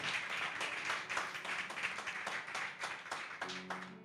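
Church congregation applauding during a Spanish-language service, steady dense clapping from many people throughout, moderately distant, with a brief tonal sound near the end.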